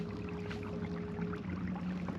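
A Newport electric trolling motor runs on a kayak out on the water, a faint steady low hum mixed with water and wind noise, with no talking.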